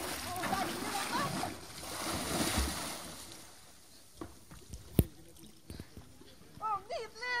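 Water splashes as someone wades into a cold, rocky spring sea at Vestre Engevika, with sloshing surges and a sharp splash, while a person talks and exclaims between the splashes.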